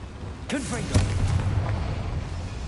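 A Confringo fire spell blasts in Hogwarts Legacy, a booming burst that lands under a voice casting the spell, followed by a rumbling tail that fades over the next couple of seconds.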